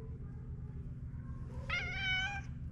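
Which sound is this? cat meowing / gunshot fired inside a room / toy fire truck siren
cat meowing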